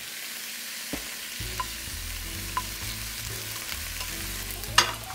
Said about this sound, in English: we're gonna add our brown rice